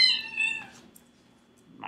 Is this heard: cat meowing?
yes